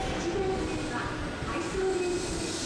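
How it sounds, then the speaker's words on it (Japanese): A Toei 5300-series subway train glides into the platform with a steady rumble and hiss, faint whining VVVF inverter tones rising and shifting over it, heard from a little distance. "渋い VVVF インバータの音を響かせながらホームに滑り込みます"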